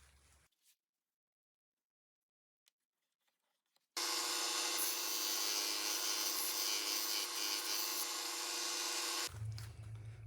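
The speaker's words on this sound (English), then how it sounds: "run it through the thickness sander till it matches." Thickness sander running a wooden guitar neck wedge through for about five seconds, a loud, close, steady abrasive roar that starts abruptly and stops just as suddenly, with near silence before it and no talking.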